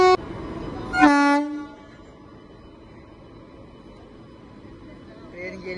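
A train at Lonavala station in India sounds a loud, sustained horn blast right at the start and again after about a second, then its rolling rumble fades to a low, distant hum.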